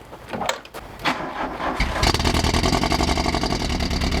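A car engine cranks and fires into life after a period of neglect, with a few brief coughs before it catches near two seconds and settles into a loud, steady, close idle.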